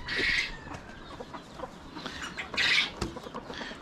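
A broody hen clucking close by, with a few harsh, scratchy calls in short bursts separated by quieter gaps.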